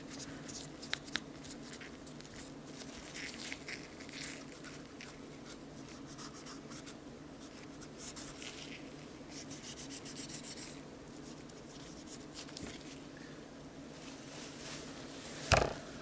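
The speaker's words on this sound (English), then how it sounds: "Just Q-tip, just to clean out any debris, especially if you play outdoors" A Q-tip rubs and scrubs inside a Tokyo Marui M&P9 airsoft pistol, making faint, continuous close-up scratching and swabbing sounds, ending with a small click.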